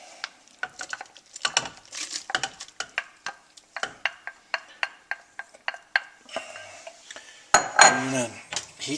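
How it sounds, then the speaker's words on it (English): Mushrooms going back into a soup pot of creamy blended onions, heard as a quick series of metallic utensil clinks and scrapes against the pot, close and rhythmic, ending in a louder wet stirring burst. "Put our mushrooms back in."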